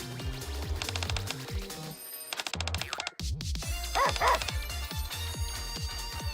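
Playful dog barks and yips in the NIKKE video game, a series of short rhythmic bursts over a bright musical background, with a brief whimper and a momentary drop-out midway.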